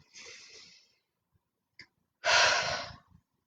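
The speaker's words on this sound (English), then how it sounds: "So just close your eyes, maybe take a nice grounding breath." A deep grounding breath taken close by: a short breathy exhale, a brief pause and small sniff, then a long loud inhalation, with no talking.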